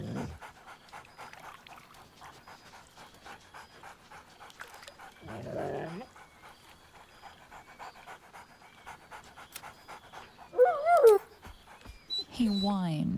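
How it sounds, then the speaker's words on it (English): Dog panting steadily in Baldur's Gate 3, with a few short yips and whimpers breaking in, close and clear under a narrator's voice. "barks merrily in something like agreement"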